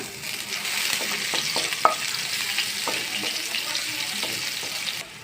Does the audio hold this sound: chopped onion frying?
yes